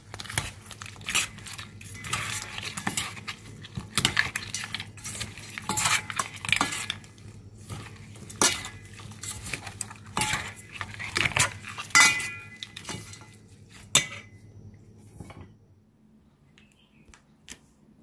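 Metal utensils scrape and clink against a dish while spicy Isan-style food is tossed and mixed. Close, busy stirring and tapping goes on steadily, then trails off into quiet near the end.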